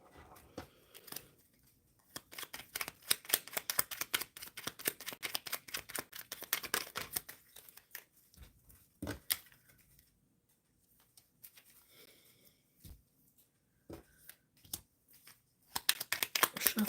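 Tarot cards are shuffled in quick bursts of crisp riffling and slapping, with short pauses between rounds and a softer stretch near the middle, close to the microphone and fairly quiet overall.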